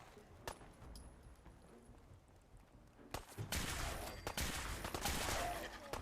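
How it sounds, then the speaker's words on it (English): Gunfire in Fallout 4, with scattered single shots early, then bursts of rapid fire that grow louder and denser, mixed with game noise and some voice. "Wait, where are you shooting at?"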